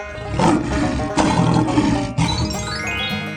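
A lion's roar in a 3D animal slide game rumbles for a few seconds over busy cartoon game music and jingly effects.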